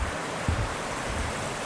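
A river beside the Bonneville Shoreline Trail gives a steady, broad rushing wash of flowing water, even and continuous throughout the brief moment, with no voices.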